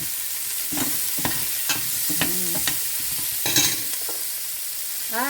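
Butter sizzling in a pan alongside small red onions, a steady soft frying hiss with intermittent scraping and clinking of a stirring utensil, close and moderately quiet with no talking.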